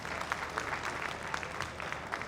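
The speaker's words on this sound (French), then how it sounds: "Applaudissons pour Mamadou Tok." Crowd applause for a guest at a Senegalese gathering, continuous moderate clapping with individual hand claps audible across the whole stretch, under faint room noise.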